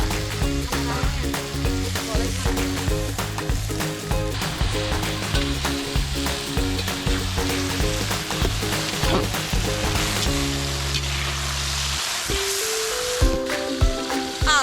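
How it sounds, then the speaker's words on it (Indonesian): Sendokan leaves stir-fry in a wok over a seasoning sauté that has just turned golden, a dense, loud sizzle with stirring clatter, easing briefly near the end, with no speech. "saatnya si sayur sendokan masuk ke wajan"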